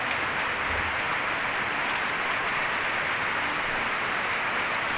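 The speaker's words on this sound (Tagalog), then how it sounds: "Malakas ang ulan." Heavy rain drums on a roof in a dense, unbroken hiss that stays constant throughout, with no voices.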